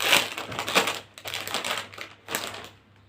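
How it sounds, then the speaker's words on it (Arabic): Crinkly plastic packaging of a Chipsy potato chip bag torn open, three bursts of rustling and crackling separated by short pauses, close and fairly loud with no talking. "نفتح الاول شيبسي"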